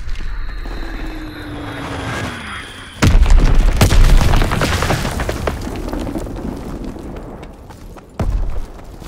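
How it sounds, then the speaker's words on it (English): Enemy mortar rounds land in the World War II shooter Call of Duty: WWII, heard as two heavy, close booms several seconds apart over a droning battlefield backdrop with a whining tone before the first impact. "Enemy mortar fire incoming!"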